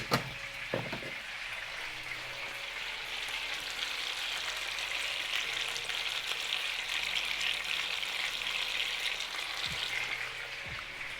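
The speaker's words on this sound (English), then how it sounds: "We're gonna give it a nice sizzle from both sides." Steady loud sizzling of chicken frying in a hot pan, a continuous hiss with a few clinks near the start and end.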